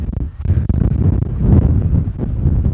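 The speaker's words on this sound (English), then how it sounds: "I think any camera crew out here today would have a hard time canceling this wind noise" Heavy, continuous wind buffeting the microphone with a low rumbling roar that surges and fades, loud and close.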